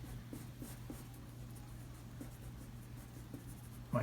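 Quiet, close pencil strokes on paper during a contour drawing, with soft repeated scratching at an irregular rhythm over a low steady hum.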